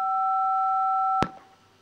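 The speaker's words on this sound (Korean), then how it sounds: "벨이 울렸고요." A sustained two-tone electronic bell rings steadily at a show jumping grand prix, then cuts off with a sharp click, leaving quiet arena ambience.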